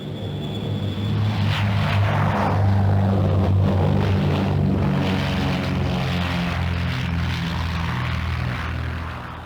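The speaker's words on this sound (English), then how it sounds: "A development of the Britten-Norman Islander, a military version called the Defender, is accompanied by the 3-engine Trilander." Britten-Norman Defender and three-engine Trilander propeller aircraft take off at an air show, with a loud, steady drone of piston engines that swells and holds throughout without speech.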